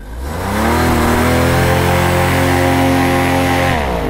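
Vittorazi Flat Top 200R paramotor engine revving up loudly and close, a rising two-stroke roar that holds at high revs for several seconds before easing off slightly.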